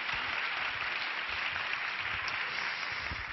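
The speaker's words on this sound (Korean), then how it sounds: "뜨거운 박수로 환영해 주십시오." A church congregation at Onnuri Church claps to welcome a pastor to the pulpit: a soft, even wash of many hands applauding continuously, somewhat distant and muffled.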